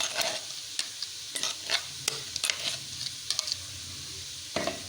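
Chicken fries in a pot with ground fried onion and yogurt while a spoon stirs it: quiet steady sizzling broken by sharp, irregular scraping and clinking strokes, with no one talking.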